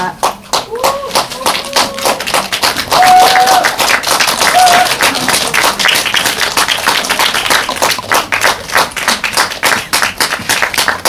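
Sustained applause from an audience at a film's stage greeting, many hands clapping in a dense rapid patter for several seconds, with brief voices near the start.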